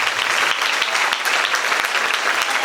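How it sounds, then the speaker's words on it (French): A congregation at a French-language church service claps for the Lord, loud close-up applause with sharp overlapping hand claps filling the space continuously. "nous allons applaudir pour le Seigneur,"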